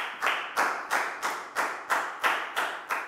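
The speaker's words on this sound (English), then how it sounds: "High five, big round of applause for Prayo" Classroom applause for a student, heard as a steady rhythm of about nine loud, evenly spaced unison claps.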